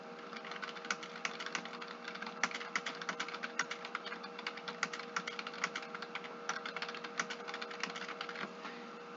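Fingers type steadily on a computer keyboard, a dense run of quick, light key clicks with small irregular pauses, close and quiet, and no one speaks.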